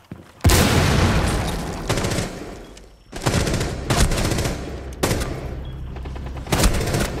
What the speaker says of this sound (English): Watch for the blast!